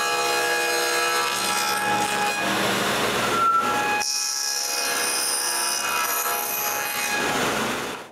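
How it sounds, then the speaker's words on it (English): A table saw cuts a stub tenon on the end of a wooden rail for a bathroom vanity, a loud steady whining rip with a shift in pitch partway through as the blade works the wood, heard close with no talk. "The first thing I do is to adjust the height of the blade and cut the first tenon."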